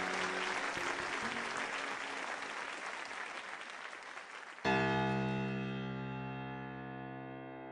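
An audience at a school welcoming ceremony breaks into loud, sustained applause for an arriving guest, until a bright held musical chord abruptly takes over and slowly fades.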